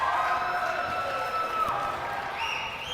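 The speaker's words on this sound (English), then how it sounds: "Kohelet crowd might be celebrating prematurely" A basketball crowd for Kohelet roars and applauds at a Sarachek 2023 semifinal against MTA, a loud, steady wash of cheering that holds for several seconds.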